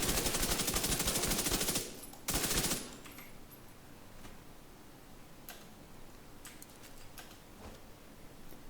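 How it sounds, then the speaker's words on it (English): Gunfire in the video game The Division 2: a rapid automatic burst for about two seconds, then a few scattered single shots and ticks, loud at first and quieter afterward, with no talk. "I'm going to just shoot this."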